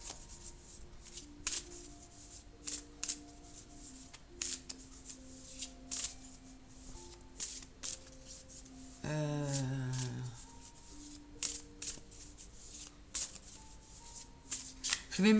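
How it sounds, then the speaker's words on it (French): A deck of Grand Tableau Lenormand cards is cut and handled on a table. Quiet papery slides and soft card snaps recur through the stretch, with one louder riffling burst midway, under a faint steady hum. "Alors, je vais simplement faire une coupe."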